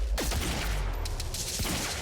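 Heavy pistol fire in the video game Quantum Break: a couple of sharp, loud shots with a booming low rumble beneath, over game background noise.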